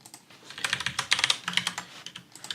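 Keyboard shortcuts are typed on a computer keyboard in a rapid run of crisp, close keystrokes clicking in quick succession, with no voice over them.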